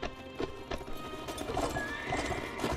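Cavalry horses gallop in Mount & Blade: Warband, a soft but steady patter of many hooves with occasional whinnies, set against a distant battle ambience.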